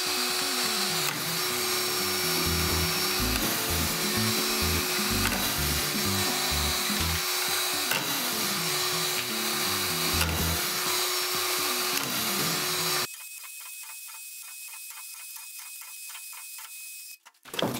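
Strip-fed drywall screwdriver running against plasterboard, a loud continuous motor whine with rhythmic pulsing as screws are driven, cutting off abruptly near the end to a quiet hum and a final clunk.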